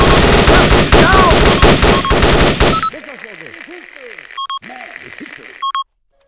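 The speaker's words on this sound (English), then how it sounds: "Machine gun." Loud, rapid bursts of machine gun fire fill the first few seconds of a battle in the 2006 video game ARMA: Armed Assault, then cut off, leaving quieter radio-like chatter and electronic beeps.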